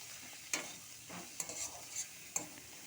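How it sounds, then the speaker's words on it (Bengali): Spice masala with salt, turmeric, chili powder and ginger-cumin paste stir-fried in a pan with onion and garlic, a steady low sizzle broken by several sharp scraping stirs. "পরিমাণ মতো লবণ, হলুদ গুঁড়ো, লঙ্কার গুঁড়ো দিয়ে আদা জিরে বাটাটা দিয়ে ভালো করে কষিয়ে নিচ্ছে মশলাটা"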